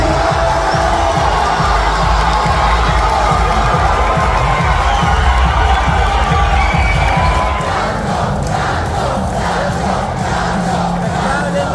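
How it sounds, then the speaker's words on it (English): A large crowd at a dance tournament semi-final cheers and screams loudly and continuously, a dense roar of many voices that swells and then eases slightly toward the end. "The crowd is electric."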